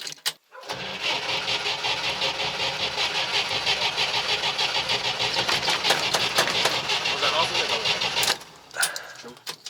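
A car engine cranks continuously for about seven seconds, a loud rapid rhythmic whirr of the starter that never catches, then cuts out, with people talking nearby.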